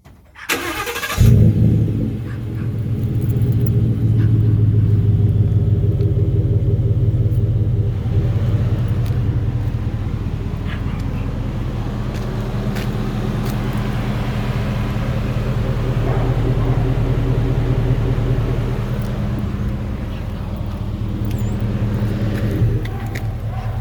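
A 2016 Ford F-150 with a 5.0-liter V8, Flowmaster Super 50 muffler, UltraQuiet front resonator and 3-inch pipes warm-starts with a brief crank, then settles into a loud, steady, deep idle rumble close by.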